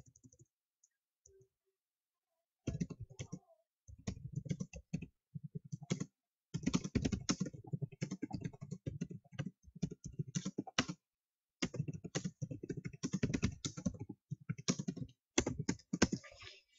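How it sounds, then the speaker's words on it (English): Loud, rapid clacking of computer keys comes in bursts separated by short pauses, close up, with no talking. "I have very loud typing."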